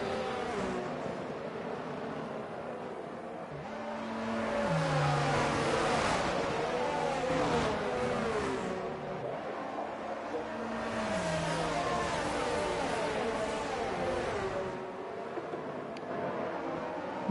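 Race cars circling at reduced pace behind the safety car in an F2 racing game at the Dutch Grand Prix, engine tones rising and falling through gear shifts, fairly quiet and steady.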